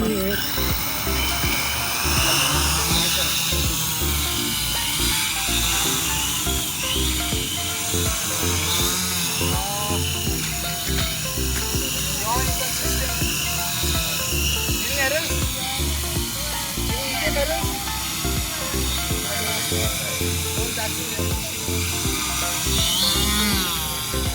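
Drone motors spin up after arming, giving a loud, continuous high-pitched whine with a dense buzzing hum that holds steady throughout, while people talk over it.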